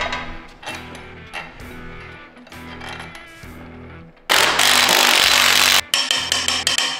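Tightening flywheel bolts on a Cummins engine with a torque wrench being prepared for a Ford ZF6 transmission: repeated close metallic ratchet clicks and rubbing tool sounds, ending in a loud, dense burst of mechanical noise.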